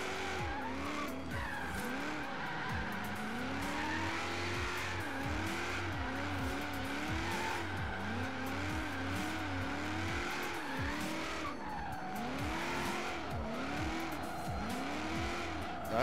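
A Lexus GS 350 F Sport on 20-inch wheels drifts in Forza Horizon 3, its tires squealing in long wavering sweeps over a steady engine drone that runs without a break.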